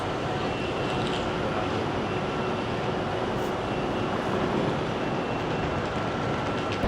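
A large Swiss train in motion gives off a loud, continuous broadband rush and rumble, steady throughout as if heard from on board, with a faint voice briefly under the noise.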